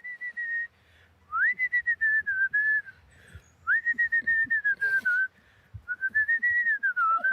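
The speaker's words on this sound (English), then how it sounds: "These emus love when she starts whistling." Melodic human whistling aimed at a group of emus, with long gliding tones in repeated phrases separated by short pauses, loud and close, with faint rustling and a brief noise burst between phrases.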